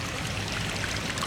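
Water flows from a pond's settling area and veggie filter out through a hole back into the pond, making a steady, close, broadband trickle and rush with no voices.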